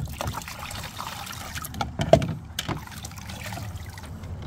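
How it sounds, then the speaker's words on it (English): Water trickles and splashes at a children's water table, a light irregular pouring with small plastic knocks, close by and fairly quiet. "You can pour water."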